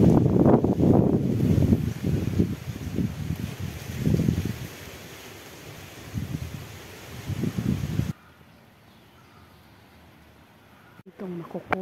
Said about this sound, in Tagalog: so ang hangin